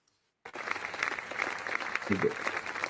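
A recording of applause starts abruptly after a brief silence, a moderate wash of crowd clapping played back during a talk, fairly even and somewhat distant, with a voice briefly audible over it.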